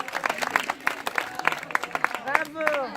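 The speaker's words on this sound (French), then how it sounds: "Bravo, on l'applaudit" Scattered claps from a congregation at a scout group's closing Mass, distinct hand strikes repeating in an uneven rhythm while voices speak and exclaim over them.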